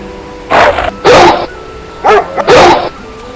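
A dog barks four times in two pairs, loud and close, with short gaps between the barks.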